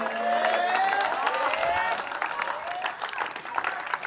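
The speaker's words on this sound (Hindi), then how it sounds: "भरपूर तालियों में" A crowd at a sports complex award ceremony breaks into sustained applause and clapping with some cheering, loud and dense at first, then thinning into scattered claps.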